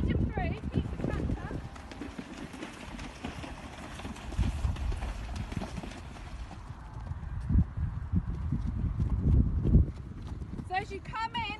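A horse being ridden in an arena lesson clip-clops along at a steady gait, its rhythmic hoofbeats fairly clear beneath an instructor's spoken coaching.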